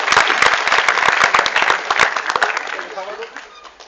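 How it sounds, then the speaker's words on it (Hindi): Audience applause at a college poetry recital, a dense burst of many hands clapping loudly that holds steady and then thins out and fades over a few seconds. "एक बार जोरदार तालियां"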